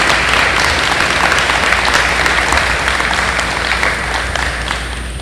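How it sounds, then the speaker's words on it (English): Sustained applause from a high school graduation ceremony audience honoring graduating students, a dense wash of clapping that holds steady for several seconds and slowly eases off. "Please give a big round of applause for our students"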